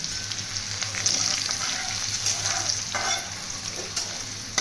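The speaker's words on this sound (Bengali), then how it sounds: "এরপরে দেবো রসুন কুচিগুলো এবারে ফ্লেমটা কমিয়ে ভাজতে হবে" Chopped garlic frying in oil in a pan over a low gas flame, giving a steady, soft sizzle with faint stirring scrapes throughout.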